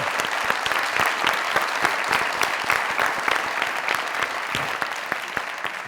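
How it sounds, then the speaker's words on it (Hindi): A comedy-show studio audience applauds warmly for a guest, a dense, steady wash of clapping that holds at an even, fairly loud level throughout without speech. "अब जोरदार तालियां एक खूबसूरत लड़की के लिए जो आज हमारी मेहमान है"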